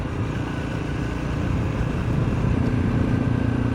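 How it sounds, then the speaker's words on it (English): A Honda CRF300 Rally motorcycle cruising along a rough road, its engine a steady low drone with wind rush, close and continuous throughout. "this is where this bike's happy on these roads here, just cruising along."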